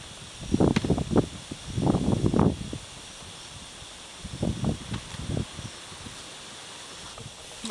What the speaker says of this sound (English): I don't know if that wind's bothering you or not.